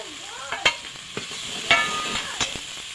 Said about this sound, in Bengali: আগে পেঁয়াজটা ভেজে নিয়েছি আমি এটা একটু ভেজে নেব জিরে ধরে বাটা দিয়ে দেবো